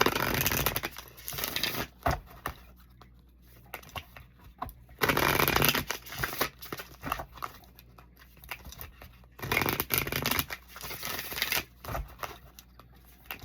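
An oracle card deck is shuffled by hand, with bursts of papery riffling and slapping that come and go in several loud spells between quieter shuffling, close by and without talk.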